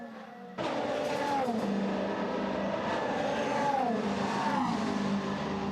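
Peugeot race car lapping a circuit during a broadcast race, a steady engine roar with rising and falling pitch sweeps as cars pass, continuous and fairly loud with no talk.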